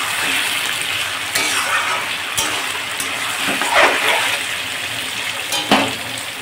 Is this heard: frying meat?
yes